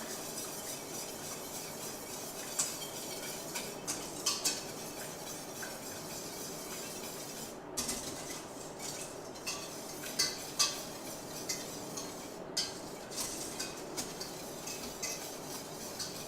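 A whisk scraping and clinking inside a pot of cheese sauce for mac and cheese, soft irregular metallic ticks over a steady background hiss, no talking.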